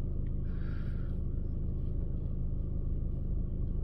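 A Citroën C4 Cactus with an overloaded diesel particulate filter idles as a steady low engine rumble, with a brief rise in pitch near the start. The engine note then settles back to an even, continuous drone. No one speaks.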